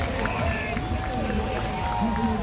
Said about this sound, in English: Just listening to the crowd there, the noise.